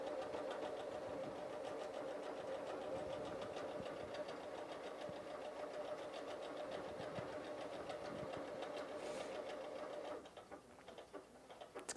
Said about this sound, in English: I'm going to use the start stop button, and then we can watch it stitch out each of the letters.